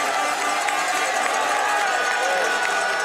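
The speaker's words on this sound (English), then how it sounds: "the crowd go crazy, and we have got fantastic bike racing on a Sunday afternoon" Spectators at a cyclo-cross World Cup race in Namur keep up a steady, loud roar and cheering throughout, a dense outdoor crowd noise with a voice talking over it.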